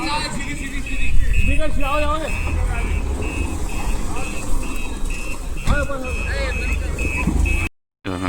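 Customers' vehicle rolling down and reversing at a goat yard, with a steady engine rumble, a repeating high reversing beep throughout, and people talking nearby over the noise.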